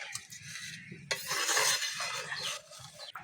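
A spoon stirs ghee and a spice mix into a pot of veg dal, soft close scraping and sloshing swirls with a louder stretch of stirring in the middle and light clinks.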